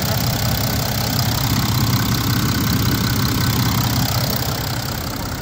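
A car engine idles steadily after a jump start, its battery not charging, with a loud, even low rumble that continues alone and unbroken for the full length.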